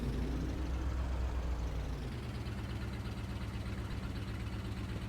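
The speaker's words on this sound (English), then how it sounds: "let's go ahead and get this tractor moved out of the way" A tractor engine in the Farming Simulator 22 video game idles with a loud, continuous low rumble, its pitch shifting slightly partway through as it keeps running steadily, with no voices.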